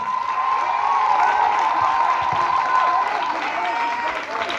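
A church congregation applauds and cheers in sustained, dense clapping with voices and whoops mixed in, steady and loud throughout.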